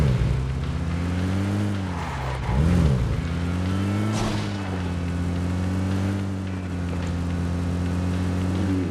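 A vehicle driving in the mobile battle-royale game PUBG Mobile, its steady engine drone rising and falling in pitch with a brief revving surge, loud and close, with no talk over it.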